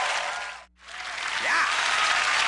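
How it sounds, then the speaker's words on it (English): Audience applause for Linda at a comedy corporate show, loud sustained clapping from a crowd with a brief cut near the start and a faint voice underneath. "Give an applause for Linda."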